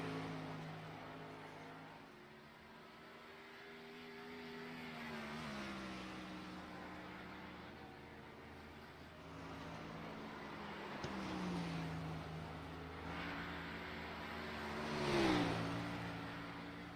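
Race car engines in the iRacing video game, in an oval race of the Thunder Cup Series, make a faint, steady droning hum whose pitch slowly rises and falls as the cars circle, with no talking.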